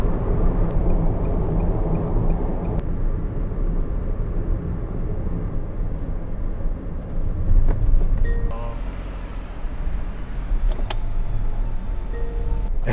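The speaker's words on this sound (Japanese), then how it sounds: "ではいわき中央インターチェンジで高速道路を降ります。" A Nissan Roox car rolls off the expressway at the Iwaki-Chuo interchange, its steady road and engine rumble filling the cabin throughout, with a few faint clicks and tones toward the end.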